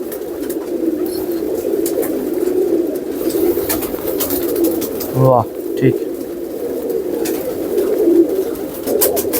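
Pigeons coo steadily under a gentle patter of light rain at a rooftop pigeon-keeping loft, with a few brief spoken words breaking in midway.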